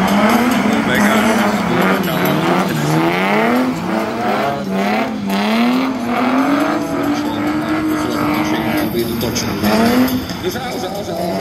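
Drift car at a street drift competition at Biķernieki, with a continuous loud engine wail rising and falling alongside sustained tire squeal as the car slides; commentary runs underneath.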